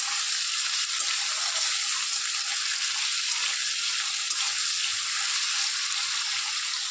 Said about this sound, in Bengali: এবার ভালো করে লাল লাল করে ভেজে নেবো আলুগুলোকে